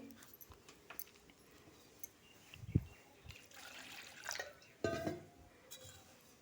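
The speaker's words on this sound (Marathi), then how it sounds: "एक ग्लासभर पाणी वरतून घालत आहे" A glass of water is poured into buttermilk kadhi in a pan, giving quiet splashes and trickles that come in a few short bursts, close by and faint.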